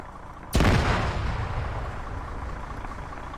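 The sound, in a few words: explosion in a video game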